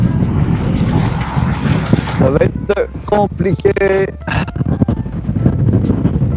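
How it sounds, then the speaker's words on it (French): Strong wind buffets the microphone beside San Francisco Bay, a loud, steady roar with gusty low rumbling throughout, while a person speaks over it in the middle. "Il y a beaucoup de vent."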